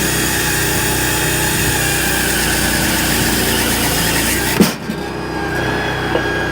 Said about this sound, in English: gotta run it till it almost bogs down to get the speed out of it